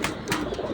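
Racing pigeons coo close by, soft throaty burbling calls overlapping in a short, continuous stretch with no voices.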